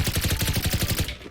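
Rapid automatic fire from a new alien gun in the Zula online shooter, a steady burst of evenly spaced shots that cuts off near the end.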